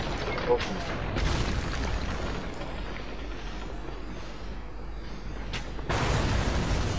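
Cannonballs explode in the video game Trine 2 on PS4. Deep booms and rumbling bursts sit under a dense game soundscape, with one sharp blast near the end, while players talk over it.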